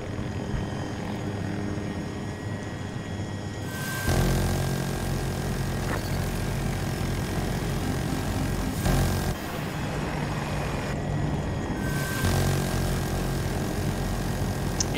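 Helicopter flying in the video game Battlefield 2042, a steady loud rotor and engine drone that swells and fades slightly across the clip.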